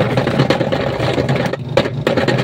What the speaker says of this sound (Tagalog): Hindi kaya mapigilan yung ikot ng motor.